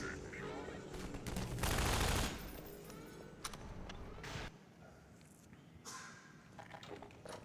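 Rapid automatic turret gunfire in Half-Life 2, a dense burst that peaks loud around the middle, then thins into scattered shots and clatter, with a voice talking faintly underneath.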